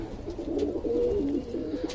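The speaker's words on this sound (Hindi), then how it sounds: "ये जोड़े वाले कबूतर बैठे हैं हमारे सारे," Paired pigeons sitting in a loft give low, soft cooing that continues steadily through the moment, fairly close and with no talk over it.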